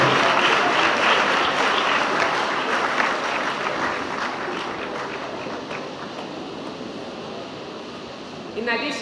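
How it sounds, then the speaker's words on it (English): Graduates at a college of education congregation receive a large crowd's applause, a loud, dense clapping that fades slightly over several seconds with talk mixed in. "Give round of applause for all of them."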